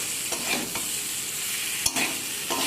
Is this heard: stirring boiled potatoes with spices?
yes